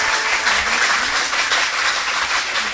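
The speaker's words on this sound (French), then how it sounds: "je vous demande de l'applaudir" Audience at a French school quiz show, Génie Scolaire, breaking into dense, steady applause that fills the room evenly throughout with no pause.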